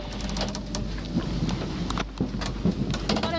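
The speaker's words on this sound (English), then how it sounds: "Got a bit of rain right here, and a bit of wind, so we're winding in the head sail." Rain and gusting wind at sea aboard a sailboat under a darkening sky, a steady broadband wash with irregular louder bursts and flaps, continuous and fairly close.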